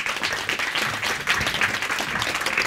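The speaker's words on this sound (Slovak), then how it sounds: "Veľký potlesk." Audience applause fills a Slovak talk show studio as the first guest is welcomed, a steady dense clapping that holds loud and even throughout.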